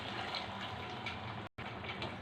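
Water from a glass pours into a cooking pan holding tamarind pulp for an egg and tomato curry, a steady, faint, continuous splashing hiss with one brief break.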